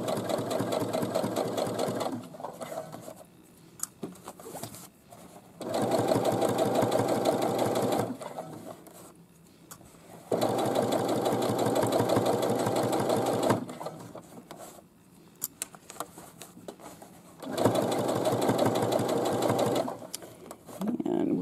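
A sewing machine runs in several bursts of steady, rapid stitching, pausing between runs, with a person talking quietly in the gaps.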